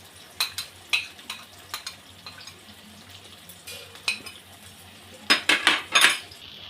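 Spoon scraping and clinking in a pan as ground spice pastes of cumin, coriander, ginger and chilli are stirred and sautéed, with a few sharp metallic taps and a soft sizzle between strokes, close by and with no talking.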